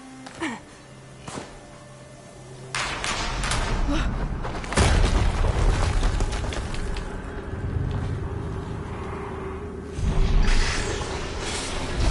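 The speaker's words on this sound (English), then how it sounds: "Another explosion." Explosions booming in the Horizon Zero Dawn video game: heavy broadband blasts at several points, with rumbling thuds and debris-like crackle, over a constant low game soundscape.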